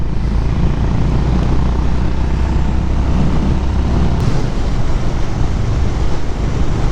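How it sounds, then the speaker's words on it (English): A Honda CB350 H'Ness motorcycle cruises down a highway, its steady engine drone blended with loud, constant wind roar. "First ride on the CB350 and I'm on a highway."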